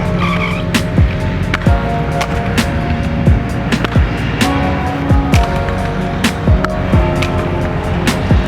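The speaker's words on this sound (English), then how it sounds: "let's go try do some grinds" Skateboard grinding on 50/50 Balance Frames: rough rolling noise with repeated scraping slides and short squeals, a new grind every second or so, loud and close outdoors with no talking.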